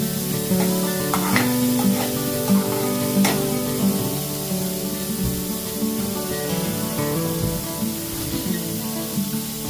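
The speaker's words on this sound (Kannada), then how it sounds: "ನೋಡಿ, ಚೆನ್ನಾಗಿ ಸ್ವಲ್ಪ ಫ್ರೈ ಆಗಬೇಕು, ಸ್ವಲ್ಪ ಕಲರ್ ಚೇಂಜ್ ಆಗಬೇಕಿದೆಲ್ಲ ತರಕಾರಿ" Vegetables for Maggi noodles fry in a pan, giving a continuous close sizzle and crackle with occasional scraping stirs, all under steady background music.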